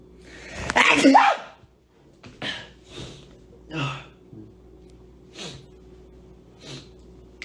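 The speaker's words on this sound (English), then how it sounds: "I'm gonna sneeze." A person lets out one sharp, loud sneeze close by, followed by a few softer breathy snorts and gasps spaced across the next several seconds.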